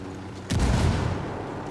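A frag grenade goes off in Ghost Recon Wildlands, a single loud low boom that bursts in suddenly and then rumbles on into a sustained, noisy tail.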